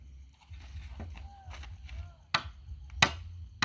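Something is pounded down by hand, giving a few sharp, separate knocks spaced about half a second apart near the end, over a low background rumble with people talking now and then.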